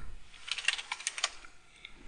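Quick keystrokes on a computer keyboard while entering shell shortcuts on a Linux system, a close, irregular burst of light clicks that starts after a brief pause and tapers off.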